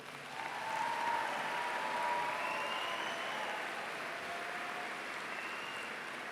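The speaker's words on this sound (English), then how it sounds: "Let's give them a round of applause again." Sustained audience applause at a University of Maryland graduation ceremony for the class of 2025, a dense even wash of many hands clapping that swells early and holds steady, with faint whoops drifting above it.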